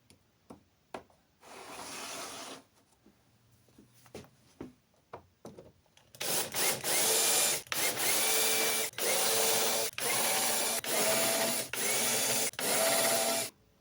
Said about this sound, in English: Count down 4 shelves and then I will start drilling those out.